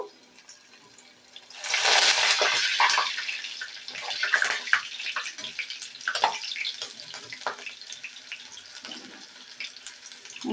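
Coated onion rings hit hot oil with a sudden loud surge of sizzling hiss, then settle into steady bubbling and crackling pops that fade slightly over the following seconds.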